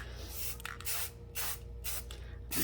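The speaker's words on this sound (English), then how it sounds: "I just want to spray the side that needs to be painted" Spray paint hisses in several short bursts onto clothespin carrots, each spray a few tenths of a second long with brief pauses between, close and fairly loud, with no talking.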